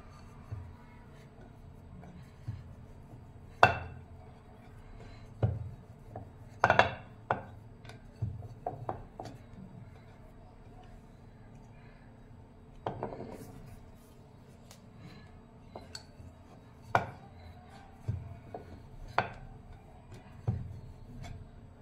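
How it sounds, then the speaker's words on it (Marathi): A rolling pin rolls out besan papadi dough on a board, making soft, uneven knocks and rubbing strokes that come in scattered bursts, fairly faint and close. "आता याच्या आपण पुऱ्या लाटणार आहोत।"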